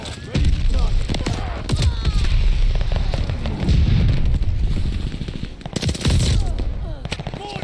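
Rapid bursts of Welgun submachine gunfire in a shooter game, loud and close, mixed with other gunshots, explosions and shouted voices.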